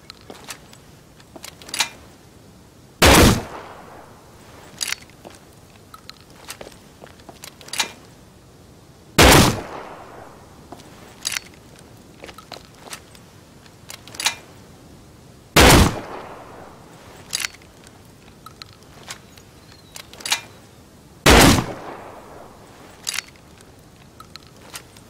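Gunfire in the video game Rust: four loud, sharp single shots at roughly six-second intervals, with quieter clicks and small knocks scattered between them.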